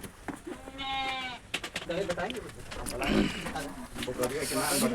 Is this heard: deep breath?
no